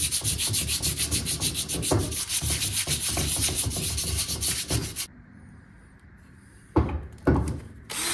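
Hand sanding a part from a modified 351 engine with 220-grit sandpaper, giving rapid rhythmic rasping strokes, loud and close, for about five seconds, then a quiet pause before two more short scrubbing bursts.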